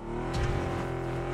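Steady engine drone of a car driving in PUBG, holding a constant revving tone with a brief louder rev surge near the start, no talk.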